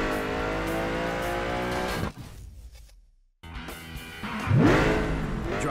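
A racing car engine in Burnout Paradise Remastered revving through the gears with a whining roar, cutting out briefly, then surging back with squealing tires and rising engine pitch.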